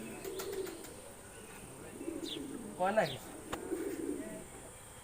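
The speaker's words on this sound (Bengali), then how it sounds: "কবুতর গুলো অনেক দামি" Pigeons cooing in a pen at a shrine compound, with repeated low throaty coos rising to a louder burst midway, while people talk nearby.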